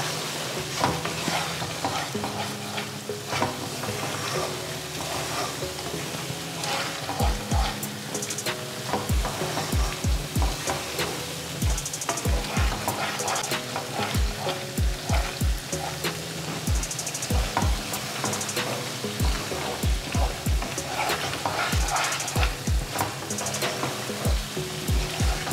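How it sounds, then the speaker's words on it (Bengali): Beef rezala spice paste sizzles and fries in a pan while being stirred, with a steady crackle throughout and repeated scraping strokes of the spoon against the pan, close and moderately loud. "এখন মশলাটাকে ভালো মতো কষিয়ে নিতে হবে।"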